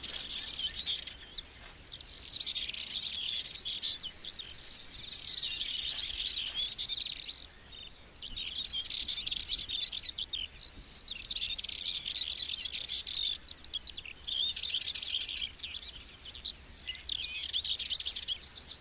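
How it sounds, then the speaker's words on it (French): A Dartford warbler sings on open heathland in Brittany, giving repeated bursts of thin, high, scratchy chirps. The song is faint and distant and comes in short phrases over a steady insect-like hiss. "cette fauvette pitchou est cependant un oiseau qu'on ne peut pas confondre en raison de sa petite taille"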